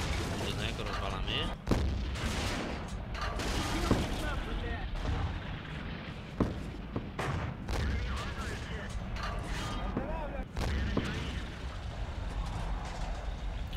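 Tank cannon shots in World of Tanks while playing against a KV-1, several sharp booming blasts at irregular intervals over a continuous engine rumble, with someone talking throughout.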